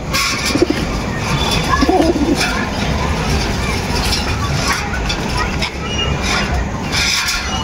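Teddy pigeons coo softly in a loft, with low murmuring coos under someone talking nearby and a steady background rumble of traffic.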